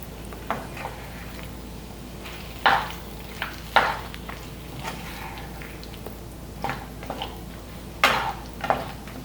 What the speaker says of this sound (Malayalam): നന്നായിട്ടൊന്ന് മിക്സ് ചെയ്തെടുക്കാം.